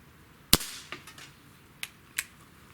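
A Schofield CO2 air revolver fires one sharp, loud crack, followed by a few fainter, spaced snaps and pops, with no voices.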